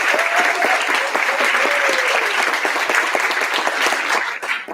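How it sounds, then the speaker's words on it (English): Steady, dense applause fills a room after a nation's congressional candidate debate, close and loud, with a faint voice briefly heard within the clapping before it tapers off at the end. "Can everybody here give them a round of applause?"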